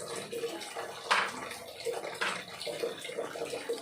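Tap water running into a container at home, a steady splashing wash with a couple of louder gushes, while people talk nearby.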